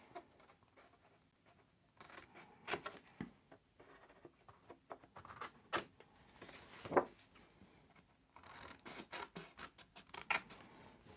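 Scissors cut 12 by 12 scrapbook paper into pieces for a slimline card envelope, giving irregular crisp snips and paper rustles spread across the stretch, some louder bursts close by with quiet gaps between.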